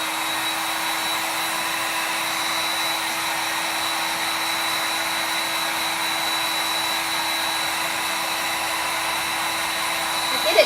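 A hair dryer blows steadily on a drying clay mould stuck to a flower pot, a continuous close, even whirring hum with a faint tonal whine, running unbroken for the whole stretch without talk.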